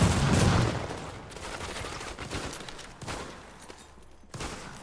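Gunfire from The Division: a loud burst at the start, then scattered shots and sharp reports under a busy combat background.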